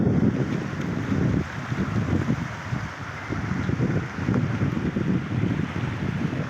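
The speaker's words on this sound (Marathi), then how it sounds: "किती स्पीडला पाणी चाललं बघा, किती स्पीडला" Water rushes fast through a drainage holding pond, a continuous loud roar with surging pulses and some wind buffeting on the microphone.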